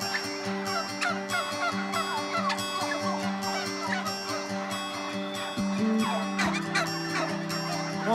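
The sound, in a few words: turkeys gobbling at the Lippe turkey festival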